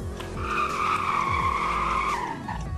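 Car tires squeal in a sustained peel-out, a loud, steady screech that holds for about two seconds over engine rumble before tapering off.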